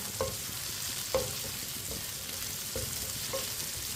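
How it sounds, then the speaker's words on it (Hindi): Okra (bhindi) fries in a pan with a steady, close sizzle, while a spoon stirring it gives a few soft, periodic scrapes and taps over the hiss. "इसे ऐसे ही चम्मच चलाते हुए फ्राई करना है।"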